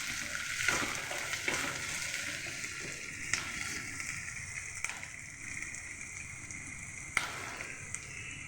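Onions fry in a pan as ginger paste is stirred in for a banana fry, giving a steady, close sizzle with occasional sharp stirring scrapes and clicks throughout.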